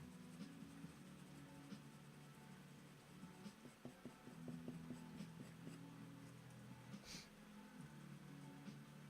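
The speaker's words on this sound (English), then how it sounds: "The pencils are making a more satisfying noise on the paper today." Coloured pencils scratch steadily across paper, with faint, soft strokes and light rubbing repeating close by, very quiet and without speech.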